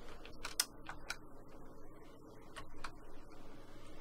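Computer keyboard keys clack while NASCAR 14 is played on PC, a sparse scatter of sharp taps in uneven bursts, close and fairly quiet over a low background hum.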